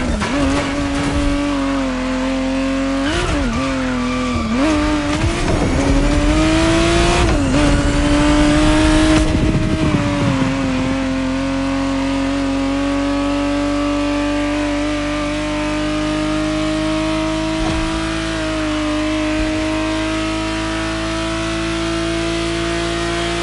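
1991 Ferrari 512 TR, the reworked Testarossa, in the racing game The Crew Motorfest: a loud, close engine revs hard several times with bursts of tire noise, then settles into a steady high drone for the rest.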